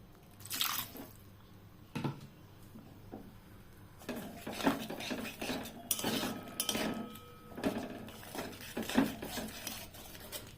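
A spatula scrapes and knocks against a pan while spiced catla fish curry with curd is stirred, giving irregular close clinks and scrapes over a wet, squishy simmer.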